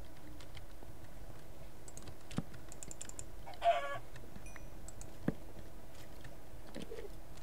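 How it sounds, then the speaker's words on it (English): A chicken in a video game gives a brief cluck partway through, faint against a quiet background with sparse clicks and soft ambient noise. "I think I just heard a chicken."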